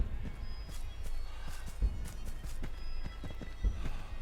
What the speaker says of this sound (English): I really hear him just like stomping about behind me.